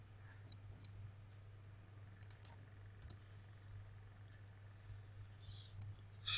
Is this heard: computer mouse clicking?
yes